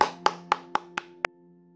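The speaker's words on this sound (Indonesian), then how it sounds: "Teman-teman, berikan tepuk tangan untuk Dafa" Six sharp, evenly spaced hand claps from a small group of schoolchildren in a classroom, crisp and close, with quiet between each clap.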